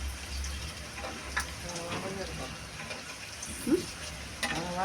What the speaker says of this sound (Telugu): ఇదిగోండి తాలింపు వేస్తున్నాం చూడండి. కాస్తంత మినపప్పు వేసామండి, కాస్త శనగపప్పు వేసామండి, కాసినన్ని వేరుశనగ గుళ్ళు వేసామండి.